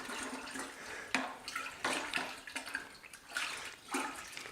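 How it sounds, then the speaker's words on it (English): Stirring wine must with freshly added yeast in a fermenting bucket, a continuous sloshing, swishing liquid sound with rhythmic surges as the stirrer moves through it, close and moderately loud. "let's take that opportunity to just go ahead and give it kind of a little stir"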